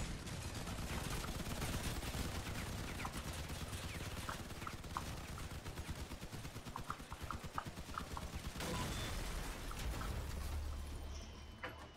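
Cannon and gunfire in the vehicle combat video game Crossout: dense, rapid, rhythmic bursts of shots that run on almost without a break, with a few sharper cracks standing out near the end.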